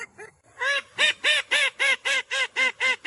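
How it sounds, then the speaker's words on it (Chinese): A call duck quacks loudly and close, about nine insistent calls in a steady rhythm after a softer opening call, with no other sound around it. "这只爱叫的科尔鸭"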